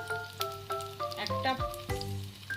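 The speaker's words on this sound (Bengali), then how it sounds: "এখন আস্তে আস্তে এগুলি ভাজতে একটু টাইম লাগে" Dried Loitta fish cakes wrapped in ash gourd leaf frying in oil, giving a steady close sizzle with a few crackles and utensil touches throughout.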